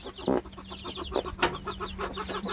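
Chickens, both hens and roosters, cluck in short, repeated bursts close by, with a faint steady hum underneath and a few sharper squawks.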